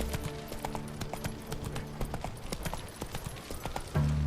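Horse hooves clip-clop steadily while riding in The Witcher 3: Wild Hunt, a continuous near trot of hoofbeats over game ambience, ending in a sudden louder low sustained tone.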